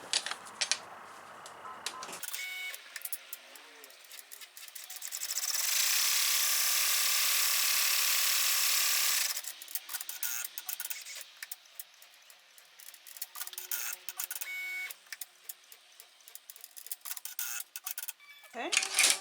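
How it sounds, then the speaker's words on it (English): An embroidery machine runs a short burst of stitching to tack down felt and mark pocket placement, a dense mechanical whir lasting a few seconds between quieter handling noises and a voice. "then I'm going to stitch out the next part, which is going to be tacking down the felt"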